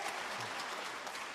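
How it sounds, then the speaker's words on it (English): An audience at a debate applauds, a steady patter of many hands clapping at a moderate distance, sustained throughout with no break. "you folks who are applauding on that"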